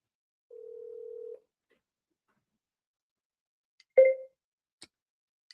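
Telephone dial tone heard as a short steady electronic beep while a phone call is placed, followed by a brief click and a few faint ticks in otherwise silent line audio.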